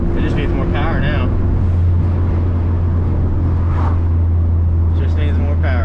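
A Ford Focus ST driving uphill on Lime Creek gives a steady, loud engine drone heard from inside the cabin, with brief bits of voice near the start and end.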